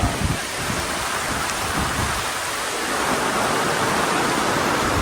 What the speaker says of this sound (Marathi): मस्त पाऊस पण आहे